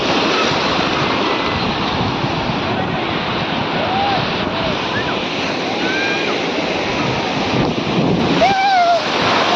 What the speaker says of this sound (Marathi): लाटांचाच आवाज भरपूर आहे